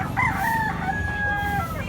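A Kelso gamecock crows in one long, strained call against a steady background murmur, fairly close and clear.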